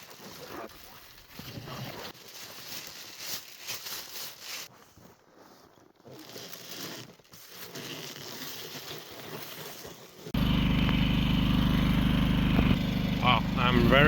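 Inverter generator engine starts up after a stretch of quieter outdoor sound with some talk, then runs loud and steady at close range through the end, in off-grid deep cold.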